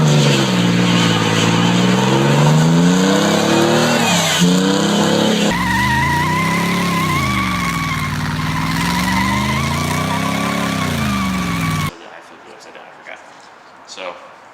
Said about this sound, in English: I'll insert 2 clips of like burnouts, kind of like an open diff and a closed diff